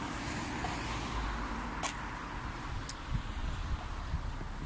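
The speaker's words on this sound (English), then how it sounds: "So many cars on the road." Cars pass along a busy road, a faint steady roadway rumble with wind buffeting the microphone and a couple of brief sharper swishes from nearby vehicles; no one speaks.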